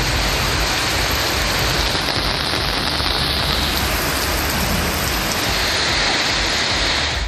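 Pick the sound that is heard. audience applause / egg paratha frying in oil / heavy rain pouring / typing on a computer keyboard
heavy rain pouring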